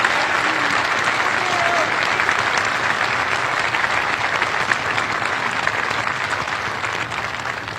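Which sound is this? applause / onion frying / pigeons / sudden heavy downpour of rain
applause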